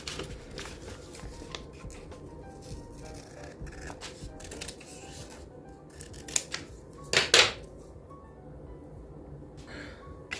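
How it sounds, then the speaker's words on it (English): Scissors snip through paper for a Christmas journal cover, with quiet, scattered cuts through most of the stretch and a louder, sharper burst of snipping close by near the end. "Oh, I forgot to cut a piece off."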